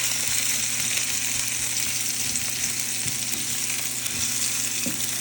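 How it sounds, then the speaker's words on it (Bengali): Onions sauté in oil in a pan for tuna curry, giving a steady, loud, close sizzle with faint stirring scrapes and no talk. "আগে একটুখানি নাড়াচাড়া দিয়ে ভালো মতো ঘুটে ঘুটে পেঁয়াজটাকে একটু সটে করব"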